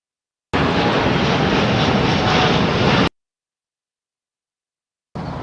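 Aircraft engine in the Microsoft Flight Simulator game: a loud, steady engine drone lasting a few seconds cuts off abruptly into silence, then the same roar returns briefly at the end.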